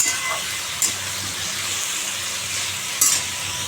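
Panch phoron spices crackle and sizzle loudly in hot oil as they are stirred in a home kitchen pan, with a couple of sharp clinks of the spoon against the pan.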